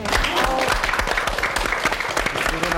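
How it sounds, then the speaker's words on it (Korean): Studio audience breaking into dense, steady clapping, loud and close, sustained for a few seconds with a faint crowd murmur mixed in. "자, 우리 불쌍한 영혼을 위해서 박수 한번 보냅시다."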